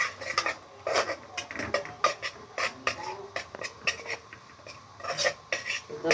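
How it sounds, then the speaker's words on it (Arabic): Flour is stirred through hot fat in a pan, a busy run of scraping and clinking strokes with a utensil against the metal, with a voice talking over the stirring. "هنحط الدقيق فيها كده وهنفضل نقلب الدقيق مع بعض لغايه لما الدقيق يتحمر"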